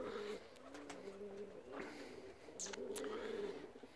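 Pigeons coo softly in a loft as birds are released, a low rolling murmur under faint background noise, with a couple of brief sharp flutters or clicks near the end.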